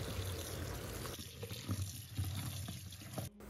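Fresh vegetables rinsed under running water in a home kitchen, a steady close splashing and trickling flow with a few light knocks, cut off abruptly at the end.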